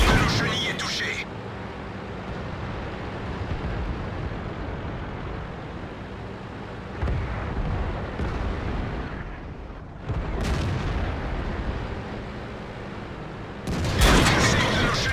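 Tank cannon fire and battle noise in World of Tanks: a dense, loud rumble of blasts with sharp bursts near the start, middle and end, while a player talks over the action.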